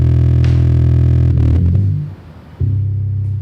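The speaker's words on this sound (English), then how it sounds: "The bass by itself is nothing really, it just sounds like this." A beat's bass line heard on its own: a deep, heavy sustained bass tone that breaks up briefly near the middle before returning, loud and close with no other instruments.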